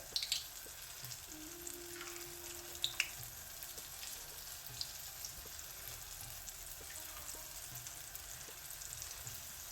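Churro dough piped into hot oil fries with a steady, faint crackling sizzle that holds evenly throughout, with a few light pops near the start.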